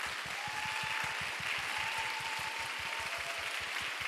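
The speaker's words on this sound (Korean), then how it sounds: "우리 루비 쿼르텟 분들께 박수로 함께 올려드립시다" A congregation at a Korean church youth worship service claps for the Ruby Quartet musicians, steady dense applause from many hands filling the room at an even level throughout, heard from a short distance.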